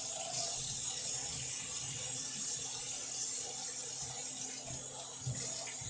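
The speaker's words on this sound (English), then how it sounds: "I need to run the water" Tap water running steadily into a sink to rinse fresh corn cobs, a continuous close hiss with faint clinks and handling noises beneath.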